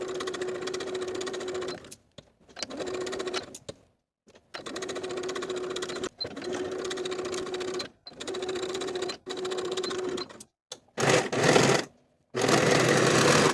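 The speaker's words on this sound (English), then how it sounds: "Sew these seams with a 5/8 inch seam allowance, finish the raw edges, and press the seams toward the yokes." Sewing machine stitching 5/8 inch fabric seams on a ruffled statement top, loud and close, running in steady bursts of a few seconds separated by short pauses, with no talk.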